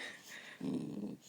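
A pet dog gives a short, low growl on command, about half a second of close rumbling after a quieter opening.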